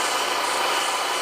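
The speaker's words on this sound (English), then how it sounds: "We take this sandpaper and" A handmade pen being sanded with sandpaper, a continuous dense rubbing hiss, close and steady throughout the short stretch with no pauses.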